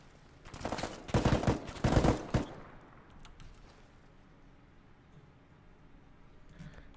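Rapid bursts of gunfire in the military video game Arma 3, three loud volleys packed close together over about two seconds, then fading into quiet ambient game noise with faint distant pops.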